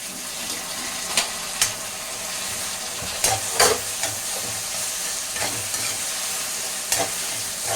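Onion and tomato sauté in a pan with a steady close sizzle, punctuated by a few sharp spatula knocks and scrapes, without speech.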